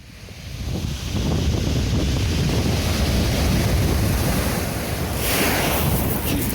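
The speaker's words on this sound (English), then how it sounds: "Watch out for those rogue waves." Ocean waves surge and break along a seashore, swelling in after a quiet start into a sustained, close roar of surf with a second crash near the end, and wind buffeting the microphone.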